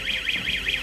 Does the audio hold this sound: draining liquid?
no